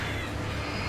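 Crows cawing in the Alan Wake video game, a brief, steady rasp of bird calls over a dense, noisy game soundscape.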